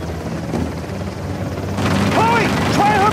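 A helicopter in the video game Uncharted: The Lost Legacy thrums with a steady rotor rumble that swells louder midway, mixed with action effects and a voice shouting.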